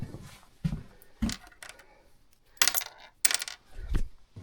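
Two leftover metal bolts drop and clink onto a hard surface during work on an ELAN, a few separate bright taps and rattles close by, quiet overall.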